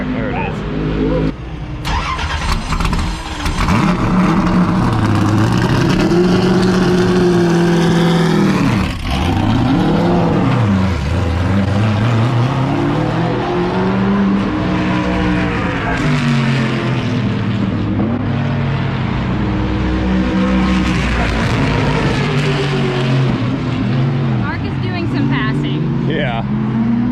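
Two IROC race car V8 engines rev loudly and continuously, one without an X-pipe and one with, rising and falling in pitch at close range, with people talking over them.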